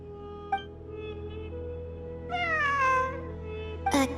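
A cat meows once, long and wavering, near and clear over a low steady hum, with a short higher cry just before the end.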